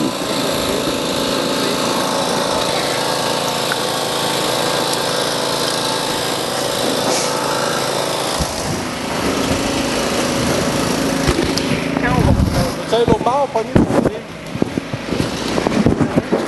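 A steady engine drone runs continuously at an accident rescue simulation, later joined by clattering, irregular handling noises and louder bursts near the end.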